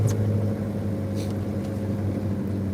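Heavily modified 2.2-liter Chevrolet S10 drift truck cruising, its engine holding a steady low droning hum with a constant tonal whine, heard from inside the cab with no talking.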